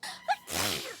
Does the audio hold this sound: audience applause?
no